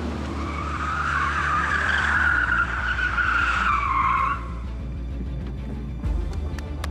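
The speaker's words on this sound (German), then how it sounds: "Hat er sich gedreht und dann war da ein Donut." Tires squeal loudly and continuously as an electric sports car, an Audi RS e-tron GT or Porsche Taycan Turbo, spins a donut; the screech fades after about four seconds, leaving a low hum and a few clicks.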